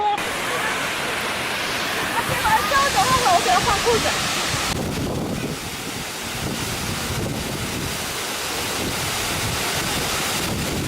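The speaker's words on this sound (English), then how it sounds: "We stopped at a waterfall." Waterfall on the Kings River in Kings Canyon National Park roars as a dense, continuous rush of falling water, loud and close, with wind buffeting the microphone and voices talking briefly early on.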